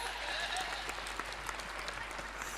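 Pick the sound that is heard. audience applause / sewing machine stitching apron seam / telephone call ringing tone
audience applause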